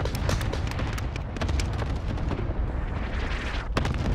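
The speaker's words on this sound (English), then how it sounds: "Allied cluster strike arriving." Rapid chain of booming cluster-strike explosions in Call of Duty: Modern Warfare, dense loud detonations rolling one after another for several seconds, with no talk.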